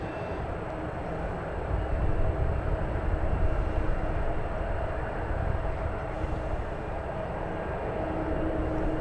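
An Aer Lingus airliner passing at San Francisco airport gives a broad, continuous engine roar that swells after a couple of seconds and holds steady and fairly loud, with no voices.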